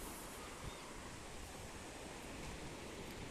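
Sea waves at Hamsaladeevi beach roll in as a continuous, even roar of surf, mixed with wind buffeting the microphone and no voices.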